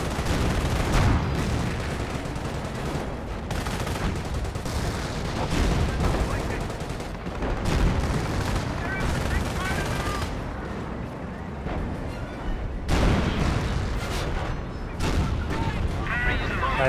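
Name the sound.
sector artillery strike in Company of Heroes video game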